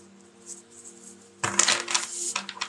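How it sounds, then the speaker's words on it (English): Deck of cards is shuffled close up: after a quiet start with faint ticks, a sudden burst of crisp riffling and clicking runs for about a second and a half. "I'm just giving this a good shuffle"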